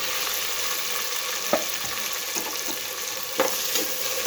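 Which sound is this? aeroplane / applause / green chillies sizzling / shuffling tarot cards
green chillies sizzling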